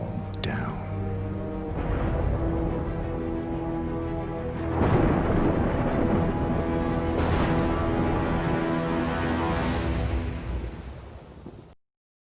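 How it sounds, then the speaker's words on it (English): Thunder rumbles through a stormy scene in Hitman III, a long rolling roar with several heavier crashes building and fading before cutting to silence. "We should head out before the storm hits."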